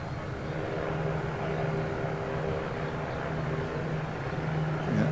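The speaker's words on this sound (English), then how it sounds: "Aircraft looking very stable on its final approach." An Airbus A350 airliner on its first landing, on final approach in light winds at Toulouse, heard as a steady, loud, broadband roar of jet engines that holds even throughout.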